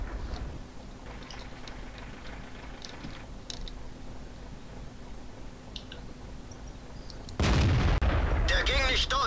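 A British tank cannon fires in the World of Tanks video game: after a quiet, low hum, a single loud, sharp blast bursts in near the end and is followed by a rumbling tail.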